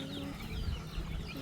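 Chickens cluck at a farm visit, a steady low clucking under ambient background noise, with no clear speech.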